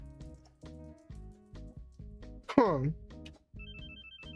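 A game telephone rings in short, regular electronic bursts about twice a second, broken midway by a loud splashy squish before the ringing resumes.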